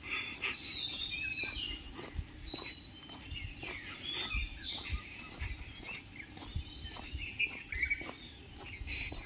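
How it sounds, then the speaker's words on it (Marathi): Birds call in the early morning in a still village, with scattered chirps and trills from different distances over a soft insect buzz and faint ticking sounds. "मित्रांनो, पक्ष्यांचे आवाज"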